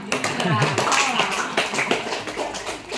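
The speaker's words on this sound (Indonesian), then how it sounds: "Tepuk tangan nak untuk kelompok Rizky" A classroom of students claps for a presenting student group, a short burst of scattered hand claps under a teacher's voice talking over it.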